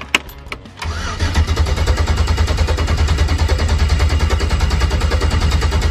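An LS 5.3 V8, just fitted with a new oil pump O-ring, cranks on its starter: a few sharp clicks, then a loud, steady, rapidly pulsing churn that runs unbroken to the end.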